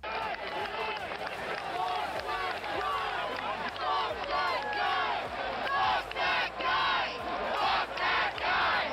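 Fans at a rock concert roar and chant together in a dense, continuous wall of shouting voices, loud and steady throughout without a break.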